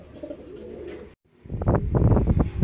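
Racing pigeons coo close by, with soft throaty murmurs followed by a louder cluster of rolling coos and flutters.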